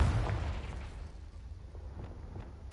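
A Confringo blasting spell goes off in the video game Hogwarts Legacy, a low boom at the start fading into a soft, lingering rumble.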